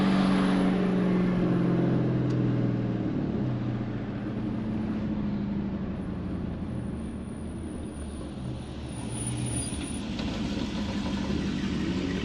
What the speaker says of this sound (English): What the hell puts a jet engine on a BMW?